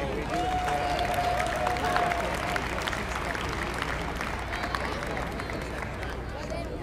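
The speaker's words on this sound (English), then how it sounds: "Let's give all of them a big round of applause." Crowd at the Piper Davis Inner City National Tournament gives a sustained round of applause for players, coaches and parents, steady outdoor clapping mixed with cheering and crowd chatter over several seconds.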